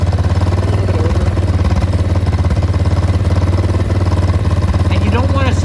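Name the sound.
motorcycle engine idling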